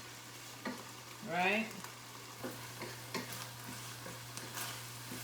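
Ackee and saltfish stirred in a pan, giving soft sizzling under repeated light scraping and tapping clicks at an irregular rhythm, with a steady low hum behind and a brief spoken word.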